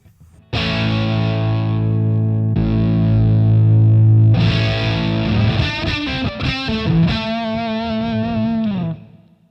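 An electric guitar plays through a Boss DS-1 distortion pedal with the distortion knob at 12 o'clock. Loud, buzzing sustained chords ring out, then a busier run of picked notes follows before it cuts off.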